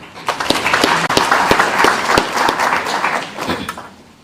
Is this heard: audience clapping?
yes